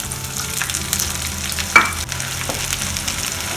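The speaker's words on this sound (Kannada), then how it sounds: "ಒಂದು ಪ್ಯಾನ್ನ ತಗೊಂಡು ಅದಕ್ಕೆ ಇವಾಗ ಎಣ್ಣೆನ ಹಾಕೊಳ್ತಾ ಇದ್ದೀನಿ. ಎಣ್ಣೆ ಕಾದ ನಂತರ ಜೀರಿಗೆ," Cumin seeds frying in hot oil in a pan for bisibele bath, a steady close crackling sizzle with a sharper spatter or stir near the middle, alone without talk.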